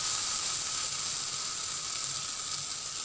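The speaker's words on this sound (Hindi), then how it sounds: "तो अब इसके अंदर टमाटर का प्यूरी डालूंगी" Tomato puree goes into a pan of frying onions, producing a loud, steady, close sizzle with a bright hiss that holds evenly throughout and no talking.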